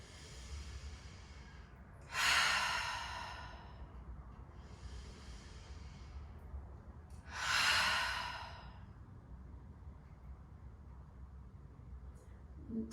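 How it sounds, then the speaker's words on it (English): Two slow, deep breaths during a yoga practice, each a soft airy inhale-to-exhale swell lasting about a second and a half, close and quiet against a low steady room hum, with no talking. "Breathing deeply all the way in. Exhale, let it all go."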